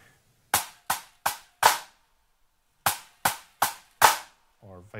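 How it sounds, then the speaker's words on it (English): A drum triplet played onto a flam: two quick groups of four sharp, loud, close strokes separated by a short pause, and a voice briefly starts right at the end. "if we play a triplet onto a flam,"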